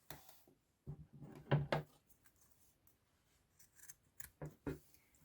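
Pinking shears trimming the seam allowance on quilted fabric, a few close, quiet crisp snips in short bursts with pauses between them.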